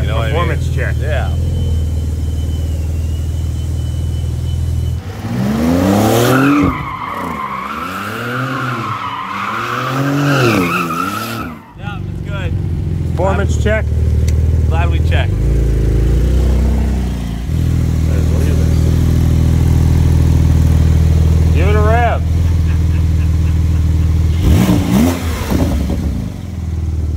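A performance car spinning donuts, with tires shrieking and skidding in long, wavering squeals while the engine revs hard and rises and falls, loud and close, and voices talking at times between the bursts.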